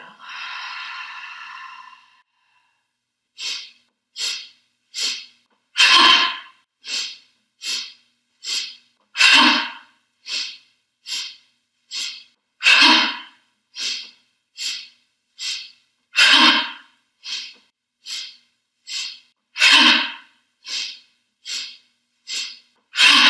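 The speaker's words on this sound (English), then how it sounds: "So, breath of joy. Here we go. Big full inhale." Forceful rhythmic breath-of-joy breathing during an intermediate movement practice: a long inhale, then a steady series of sharp, close breath bursts, with every third or fourth one a heavier whooshing exhale.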